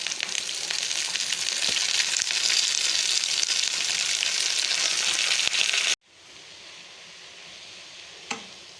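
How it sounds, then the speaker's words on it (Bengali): Bottle gourd greens tipped into a pan of potatoes frying in oil set off a loud, steady sizzle that cuts out sharply near the end, leaving a quieter hiss with one brief clatter. "আমার আলুগুলো ভাজা ভাজা হয়ে এসছে, আমি এবার লাউ শাকগুলো দিয়ে দেবো"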